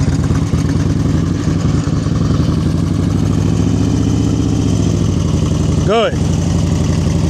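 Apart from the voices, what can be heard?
motorcycle engine during slow speed riding practice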